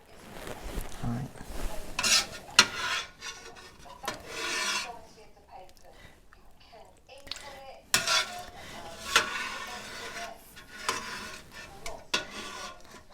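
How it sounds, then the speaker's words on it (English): A utensil stirs goat's milk curds and whey in a pot as it heats, giving scraping, rasping strokes and light clinks against the metal, close up with uneven pauses. "So we have to continue stirring that as it slowly heats up."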